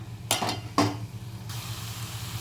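A spoon scrapes and stirs masala in an oiled pan for banana flower gravy, two distinct scraping strokes over a low steady sizzle, then a softer hiss continuing alone.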